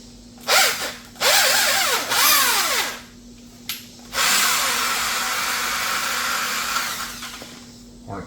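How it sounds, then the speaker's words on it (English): A handheld power drill runs in reverse to spin a clean corn cob free from a homemade tool, loud whining bursts that rise and fall in pitch, several short starts then a longer sustained run, close up with no talking. "Drill in reverse."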